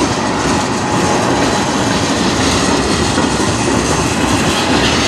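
A BNSF C44-9W locomotive hauls a manifest freight train on the Strathroy Sub, a loud, steady, close roar of engine and rolling railcars with faint wheel clatter running unbroken throughout.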